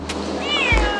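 A friendly street cat at a market on Gyodongdo island, Ganghwa, gives a single drawn-out meow, close and clear over outdoor background noise.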